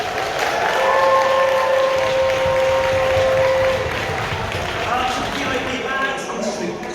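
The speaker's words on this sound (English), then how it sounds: "So round of applause to all the winners there." Crowd applause and cheering for prize winners at a convention closing ceremony, a dense, loud wash of clapping with a sustained tone ringing above it for a few seconds, voices mixed in.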